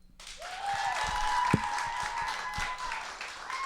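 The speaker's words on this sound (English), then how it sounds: "Round of applause." A small group claps after a climber finishes the seventh ascent of the route TC Muzique, light and scattered rather than loud, with a sharp knock partway through and a steady tone running underneath.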